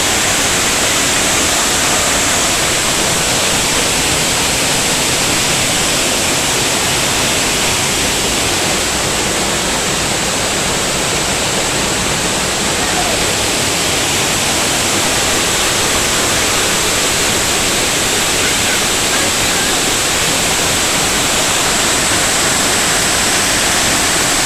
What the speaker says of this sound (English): we are behind the waterfall near Bruce Crossing, Michigan. This is Okundakun Falls.